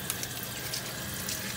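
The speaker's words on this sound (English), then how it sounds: "Water is now filling the tank." Water runs steadily into a Kohler toilet tank after a new flapper is fitted, a soft, even rushing hiss with no voices.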